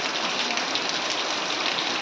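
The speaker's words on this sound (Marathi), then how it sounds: "मुसळधार पाऊस पडतो" Dense, loud rain pouring steadily, a constant hiss of water hitting surfaces close by, with no voices.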